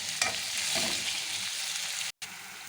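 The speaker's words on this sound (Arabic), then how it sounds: "وابتديت ان انا اقلب البصله بتاعتنا" Onion stirred and frying in a spoonful of ghee, a bright steady hiss with a couple of soft stirring scrapes, briefly cutting out near the end.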